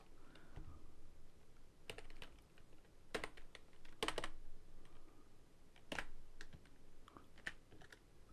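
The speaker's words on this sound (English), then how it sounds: "let's type that in again." Typing on a computer keyboard, faint scattered bursts of key clicks with pauses between them, close and alone.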